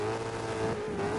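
A rally car's engine in the Dirt 2 racing game holds a steady, droning tone with a slight pitch wobble, fairly close and loud over a brief stretch, with no talking.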